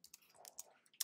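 Several sharp keystrokes on a computer keyboard click in quick uneven succession, close and fairly quiet, with no talk over them.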